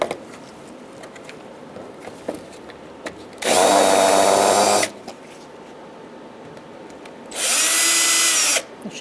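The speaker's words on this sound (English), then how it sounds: "We're going to use a Phillips head screwdriver or drill and take out our clips" Power drill backing out clips on a 2010-2013 Kia Soul 2.0L AC condenser: two loud, close bursts of whirring, the first about a second and a half long and the second shorter, separated by quiet shop background.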